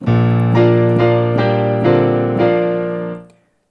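Digital piano chords with recital hall reverb repeat in a steady rhythm with a roomy reverberant tail, then fade smoothly into silence.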